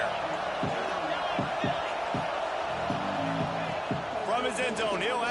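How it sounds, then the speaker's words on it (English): A football stadium crowd roars continuously at a game against Indiana, a broad wash of noise with sharp claps or thumps punching through. A commentator talks over it, and a higher burst of cheering rises near the end. "this crowd trying to help keep them there"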